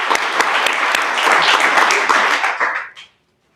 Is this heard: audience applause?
yes